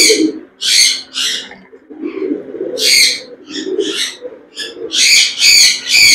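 Domestic pigeon held in the hands during vaccination, giving repeated soft cooing and breathy calls in several close bursts with brief pauses, no talk over it.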